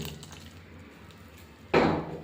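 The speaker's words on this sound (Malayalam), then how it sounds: "ഇതിലേക്ക് ലേശം വെള്ളം നമ്മൾ ഒഴിക്കണം ഏകദേശം കുറച്ച് വെള്ളം" Water poured into rice dosa batter: a quiet stretch, then a short close splashing gush near the end that quickly tapers off.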